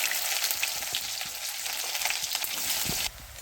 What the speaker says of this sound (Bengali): পেঁয়াজটা এবার আমি তেলের মধ্যে দিয়ে দেবো।